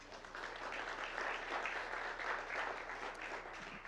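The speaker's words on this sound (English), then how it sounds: "Round of applause." A room full of people at an evening talk in the Truckee Roundhouse applauds the sponsors, a moderately distant, steady wash of clapping that holds evenly for several seconds.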